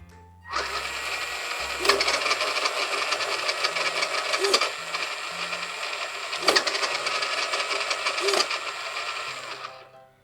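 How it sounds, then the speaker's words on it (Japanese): An RC truck (WPL) drives with a continuous whirring motor and drivetrain whine, broken by several sharp clicks as its transmission shifts between high and low gear. Faint talk sits in the background. "走行中でもミッションのハイとローの切り替えができる"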